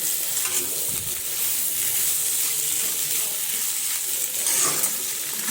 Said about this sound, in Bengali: এইখিনি ধুনীয়াকৈ এনেকৈ ভাজি ল'ব লাগিব